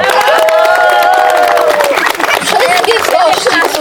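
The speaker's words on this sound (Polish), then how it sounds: "Specjalne brawa dla mieszkańców Szambruka." A crowd claps and cheers loudly and continuously at the opening ceremony of a new playground, a dense wash of applause with a voice briefly rising above it.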